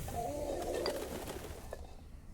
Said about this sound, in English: Pigeons, they are upset.